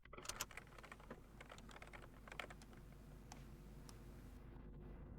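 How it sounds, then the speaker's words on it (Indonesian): Quiet typing on a computer keyboard, with irregular clusters of light key clicks over a low background hum. Nobody speaks. "jadi saya akan mengetik Polandia"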